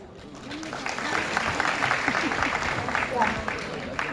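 Audience applause breaking out after an announcement of a quick promotion to manager, a sustained dense patter of clapping from a crowd lasting several seconds, with a voice heard over it.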